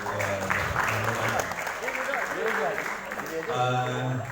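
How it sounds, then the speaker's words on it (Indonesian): An auditorium audience at a festival discussion applauds, steady clapping running beneath a speaking voice throughout. "Tepuk tangan yang mulia untuk"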